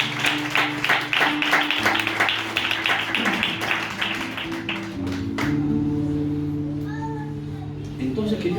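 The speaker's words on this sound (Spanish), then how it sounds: "Un fuerte aplauso a su palabra" Church congregation applauding a preacher's sermon, a dense patter of many hands over sustained keyboard or organ chords, the clapping tapering off after about five seconds while the music carries on.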